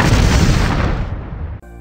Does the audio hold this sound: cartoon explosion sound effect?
yes